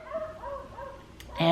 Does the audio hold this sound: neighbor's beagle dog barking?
yes